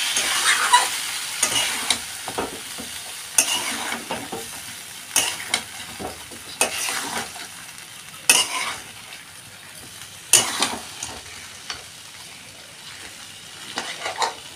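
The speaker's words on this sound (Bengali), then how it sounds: "মশলাটা কিন্তু খুব আস্তে আস্তে কষাতে হবে, তাহলে ভালো লাগবে" Spices with turmeric and chili powder being slowly sautéed on low heat in a pan: a soft background sizzle punctuated by regular spatula scrapes and taps, about one every couple of seconds.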